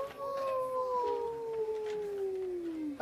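A small child imitates a wolf howl with one long, drawn-out, slowly falling vocal tone lasting about three seconds, fairly close and clear.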